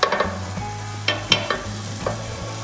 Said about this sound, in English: melt the butter just slightly and toast the peppercorn